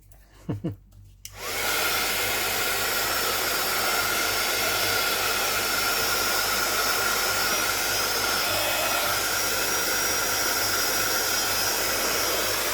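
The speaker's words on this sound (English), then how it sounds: "then I get the heat tool and heat it up." A heat tool blows hot air onto a book, a loud continuous whooshing roar that starts abruptly after a couple of soft clicks and holds steady to the end.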